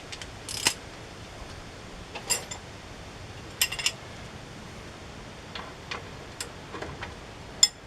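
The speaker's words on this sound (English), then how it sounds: "we'll try to get the ratchet on" A ratchet on a tight rear brake bolt of a Chevy Silverado or Avalanche gives off scattered, faint metallic clicks in short irregular bursts, with quiet gaps between them.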